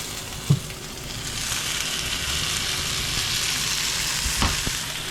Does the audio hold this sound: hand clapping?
no